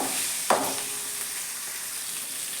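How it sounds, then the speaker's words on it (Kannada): Onion frying in a pan for a ridge gourd sambar, a steady soft sizzle with a brief clatter of stirring near the start, close and without talk. "ಇದು ಸ್ವಲ್ಪ ಕೆಂಪು ಬಣ್ಣ ಬರೋವರೆಗೂ ನೀವು ಇದನ್ನು ಫ್ರೈ ಮಾಡ್ಕೋಬೇಕಾಗತ್ತೆ ಆನಿಯನ್ನು"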